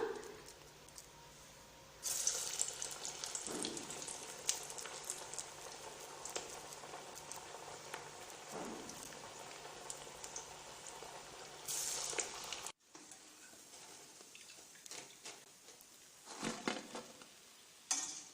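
Paruppu masala vadai (dal vadai) patties sizzling in hot oil: a steady crackling, bubbling fry near and fairly loud that continues unbroken, then drops quieter before bubbling picks up again toward the end.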